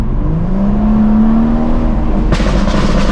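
A tuned stage 2+ BMW M140i drones as it accelerates, its engine note rising smoothly before a sudden burst of sharp crackles and pops from the exhaust near the end.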